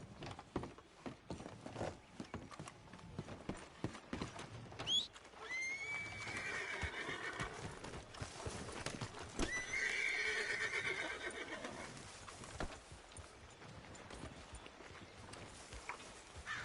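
Horses whinny and neigh in Red Dead Redemption 2, with hooves clip-clopping and faint mechanical clatter underneath; two drawn-out neighs stand out midway, fairly close.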